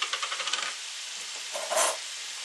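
A tablespoon or so of chopped garlic sizzles in a simple stir fry, a steady bright hiss with quick scraping stirs at the start and a brief louder flare of spitting oil near the end.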